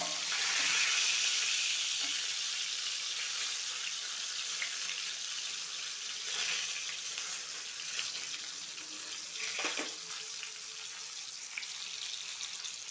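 Brinjal (eggplant) frying in a pan, a continuous bright hiss of hot oil, strongest at the start and easing slightly, with a few soft scrapes and clicks from the pan near the end; no voices.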